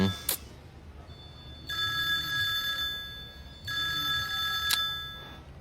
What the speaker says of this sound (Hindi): सर घर से फोन आया है सर।